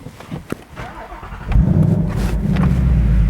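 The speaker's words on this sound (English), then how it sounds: "Oh, that V8 sounds good." A Ford Mustang Bullitt's naturally aspirated 5-litre V8 cranks and fires into a deep, rumbling idle that swells with a rev, loud and close after a brief starter whir.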